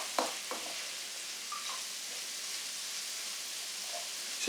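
Spaghetti bolognese sauce bubbles and sizzles in a pan as it is stirred, a steady hiss with a couple of soft knocks from the spoon, close and moderately quiet, no talking.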